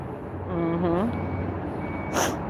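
An alcohol delivery truck backs up, its reversing alarm beeping in a short series over a steady engine rumble, with a brief air hiss near the end.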